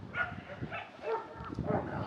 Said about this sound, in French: Alors le nombre de chiens qui aboient, c'est comme en France.